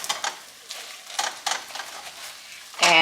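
Taco skillet meat frying in a pan gives a soft, steady crackling sizzle, with a few brief scraping stirs and a sharper burst near the end.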